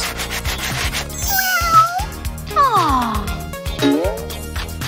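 A rhythmic rasping sound of filing or grinding a cat's nails repeats steadily, while a cat meows loudly and plaintively several times over it.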